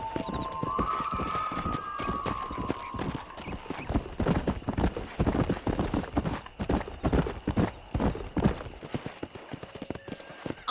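A horse gallops in Red Dead Redemption 2, rapid rhythmic clip-clop hoofbeats running continuously and close, with a brief whinny at the start over the outdoor game ambience.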